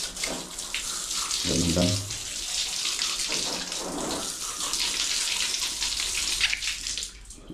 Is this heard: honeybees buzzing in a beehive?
no